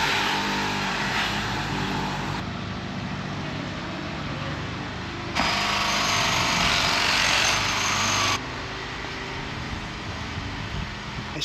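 Construction work on a street in Spain's Balearic Islands: a steady grinding drone of drilling runs throughout, joined midway for a few seconds by a louder, harsher hiss of cutting, heard from nearby outdoors.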